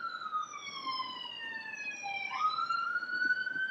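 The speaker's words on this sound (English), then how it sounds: "There's a siren." A police siren wails outside in a steady, moderately distant tone, sweeping down and then climbing again as the vehicle passes, with no talk over it.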